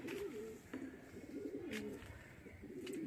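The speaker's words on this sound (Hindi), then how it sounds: "इसने तो देख लिया कि कबूतर आ चुके हैं।" Pigeons coo softly in repeated low, throaty phrases, fairly quiet against a faint outdoor background.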